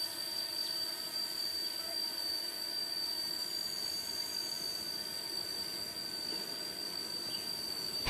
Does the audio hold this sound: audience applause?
no